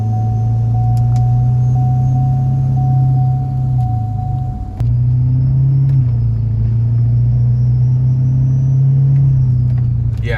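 A Ford 6.7 Powerstroke diesel truck with new full intercooler piping drives with a heavy, steady engine drone and a thin turbo whistle above it, which drops away during a downshift and then returns as the engine pulls again.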